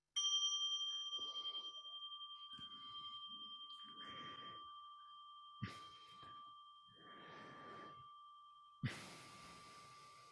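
A small meditation bell is struck once at a Buddhist-style New Year gathering, its clear tone ringing and slowly fading across the whole stretch while soft indistinct voices and brief knocks sound nearby.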